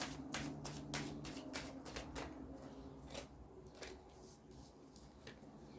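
Tarot cards being shuffled and drawn, heard as a quick run of crisp riffling flicks that thin into scattered soft snaps and slides, close and fairly quiet, with no talking.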